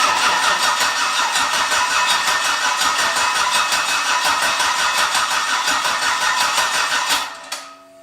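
A budget turbocharged LS car engine cranking on the starter in a garage, a steady loud whirring drone with rapid pulsing that runs about seven seconds and then cuts off without catching.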